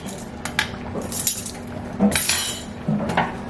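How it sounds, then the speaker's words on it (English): A spoon stirs a tablespoon of seasoning into a pot of seafood gumbo, giving scattered light metallic clinks and scrapes against the pot over a few seconds, with faint kitchen background and no talk. "and you want to stir it in"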